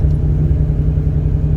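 A Ford Mustang with a Mishimoto radiator idles at a stoplight, its engine giving a steady, close low rumble with an even pulse and no revving.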